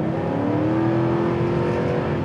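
A Chevrolet Silverado LTZ diesel ute accelerating hard, its engine note rising steadily in a smooth climbing drone, loud and continuous from the cabin with no speech over it.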